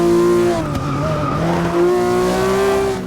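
A Lykan Hypersport in Forza 6 under full throttle: a loud, steady high-pitched engine whine with rising and falling pitch, mixed with tire squeal through a corner.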